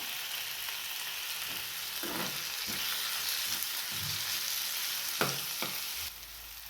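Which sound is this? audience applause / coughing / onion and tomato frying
onion and tomato frying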